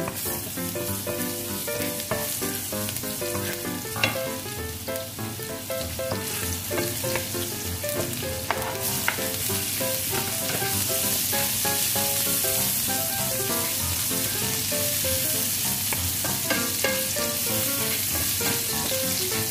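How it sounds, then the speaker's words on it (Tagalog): Ginger, garlic and onion sauté in a pan that already held fried salmon, a loud, dense, continuous sizzle close up that stays steady throughout, with occasional faint stirring and no talking. "prituhin na po natin igis na po natin yung ginger, garlic, at saka onion."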